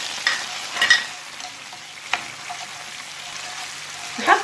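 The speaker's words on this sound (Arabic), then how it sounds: "نخلطوا هكا حتى تقلى" Tomatoes with sugar and spices frying in a pan, with a bright crackling sizzle and occasional scraping stirs close by, and no one speaking.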